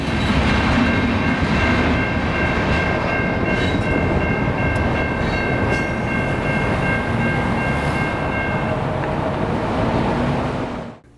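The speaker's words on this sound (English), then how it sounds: "The train in question is L572, which is a turn that runs from Council Bluffs to Denison and back. Today they were using an ST60 for power." A CN L572 local freight train led by an ST60 locomotive rolls past on the ex-Illinois Central Omaha Subdivision, a loud close rumble of wheels with horn-like tones sounding over it before it fades at the end.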